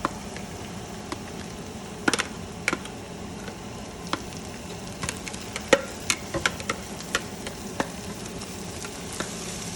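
Ground onions with cumin sizzle steadily in a hot pan for stuffed bitter gourds, a soft continuous frying hiss dotted with scattered pops and light clicks of stirring, close and moderately quiet.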